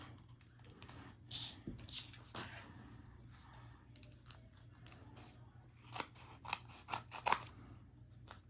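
Scissors cutting paper for a mini album craft, a series of quiet snips in irregular bursts, close and faint, with small clicks and handling noises between cuts.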